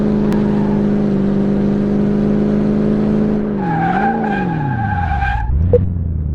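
A truck in Car Mechanic Simulator 18 runs with a steady engine drone. Its engine pitch then swoops and wavers as the tires squeal in a sustained skid, ending with a brief thump.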